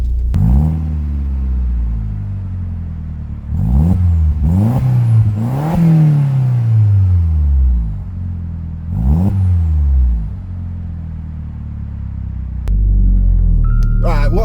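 Audi TT Mk1 engine while driving, its low rumble swelling through several revs and gear changes, loud and close throughout, with a voice speaking over it at times.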